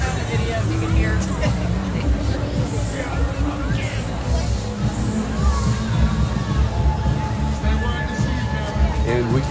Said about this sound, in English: Nice crowd on hand.